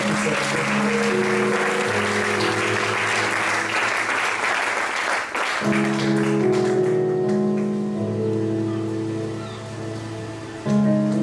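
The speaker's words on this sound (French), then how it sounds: "Est-ce que tu peux acclamer le Seigneur Jésus?" A church congregation claps and cheers loudly for several seconds, then the applause fades under sustained organ or keyboard chords that carry on alone.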